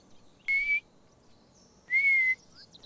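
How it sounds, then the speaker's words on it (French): Two soft, steady whistled tones from a person out on forest paths while hunting mushrooms, each held about a third of a second, separated by a pause, clear and close against quiet background. "siffle gentiment."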